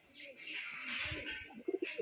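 Pigeons coo in a loft, low soft throaty calls close by, ending in a short burst of several quick rounded coos with faint fluttering.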